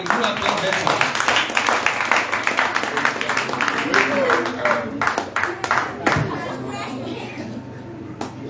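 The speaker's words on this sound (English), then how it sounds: "Clap for Bethel." A church audience at a vacation Bible school graduation claps steadily for the Bethel House group, a dense, continuous patter that runs under loud talking throughout.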